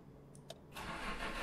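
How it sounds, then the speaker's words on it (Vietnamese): A car engine in the game Mon Bazou, fitted with a full set of new parts and a big exhaust, cranks after a couple of faint clicks, then catches into a loud, steady running roar. "Rồi, nổ máy nè."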